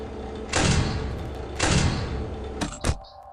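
Doors closing in the Five Nights at Sonic's video game: two loud, heavy sliding slams about a second apart, each trailing off, followed by two quicker sharp thuds near the end.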